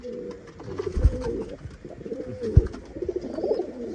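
A racing pigeon coos in low, throaty phrases close by, with a couple of soft thumps and light background rustle between calls.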